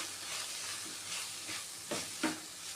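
Masala and onions are stirred in a hot pan for a tuna biryani, a soft steady sizzle broken by a few scraping strokes of the spoon, quiet and close.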